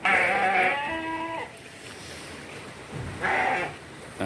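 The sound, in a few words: large sheep, 115 kg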